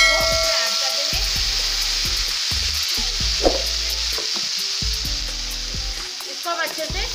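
Paste of tomato, garlic, ginger and green chili frying in a pan for dal makhani, a steady close sizzle with bursts of crackling and stirring scrapes, no voices.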